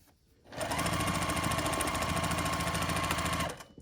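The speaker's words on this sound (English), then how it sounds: "So I'm just going to match these up on the side and sew across." A sewing machine runs steadily for about three seconds, stitching pieced quilt block fabric for a scrappy sampler quilt, with a dense rapid needle chatter that starts and stops cleanly and no talking.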